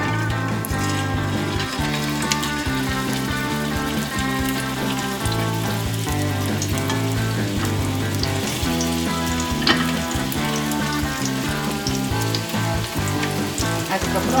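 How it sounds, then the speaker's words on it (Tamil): Stuffed bitter gourds frying in a pan, a dense continuous sizzle and crackle close by, steady throughout without voices. "ஒவ்வொரு பாவக்காயிலையும் இதே மாதிரி ஸ்டஃப் பண்ணிவிட்டு பேனில் போட்டு ஃப்ரை பண்ணணும்"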